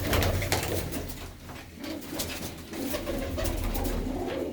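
Kept pigeons in Kartarpur, Punjab, cooing repeatedly nearby, with layered throaty coos that overlap in a soft, steady rhythm and no voices.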